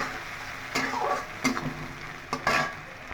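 Chopped onion, garlic and green chili fry in hot oil with a soft, steady sizzle, broken by a few sharp utensil scrapes and clicks against the pan from stirring.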